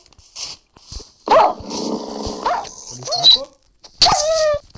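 A dog close by growls low and rumbling, whimpers, then gives short sharp barks, trading sounds with a person speaking French.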